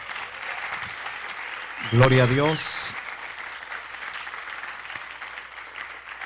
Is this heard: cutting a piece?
no